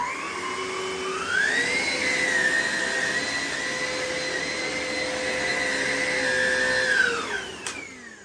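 Vax Evolve cordless upright vacuum cleaner sucking sawdust from thick carpet, its motor whine rising sharply as it starts, holding a steady loud whir up close, then winding down near the end.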